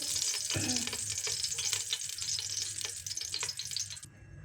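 Chunks of meat sear in a small spoonful of hot ghee in a pot, crackling with a dense, bright sizzle. Spoon scrapes and knocks against the pot break through it. The sizzle drops away abruptly at the end.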